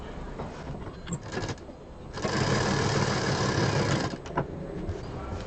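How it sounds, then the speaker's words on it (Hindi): A sewing machine stitching fabric for a handmade home decor gift piece, running in a loud, steady burst of about two seconds, with shorter faint whirs before and after. "इसको थोड़ा बाहर निकालते हुए इस तरह से सिलना है"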